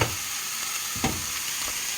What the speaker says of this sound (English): our sweet potatoes and tomatoes are sizzling.